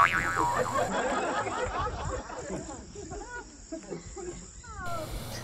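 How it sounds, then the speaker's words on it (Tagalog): Crickets chirp steadily through a quiet, breezy night at a campsite, a continuous high trill with a few brief whistling calls near the end. "Napaka-peaceful ng gabi dito kasi madidinig mo lang yung mga kuliglig."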